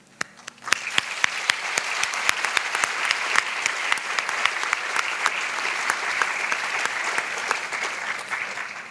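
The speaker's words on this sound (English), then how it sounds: "let's give a big round of applause to our incredible local organizing" Dense, loud audience applause at a conference opening ceremony in Bangkok, starting abruptly after a brief pause and holding steady with many sharp individual claps standing out, no talking over it.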